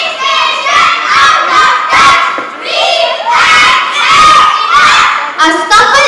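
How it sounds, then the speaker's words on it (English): A crowd shouts and yells loudly as police arrive to break up a scuffle, with many overlapping cries rising and falling in waves. "A scuffle erupts as police arrive, trying to disperse the crowd"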